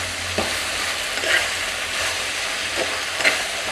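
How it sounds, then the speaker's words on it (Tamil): Eggplant and okra frying in oil in a clay pot for fish curry, a steady close sizzle with a few soft stirring scrapes at intervals, no speech. "இந்த கத்திரிக்காயும் வெண்டிக்காயும் கொஞ்சம் இந்த எண்ணெயில் பரண்டுச்சுன்னா மீன் குழம்பு நல்லாயிருக்கும்."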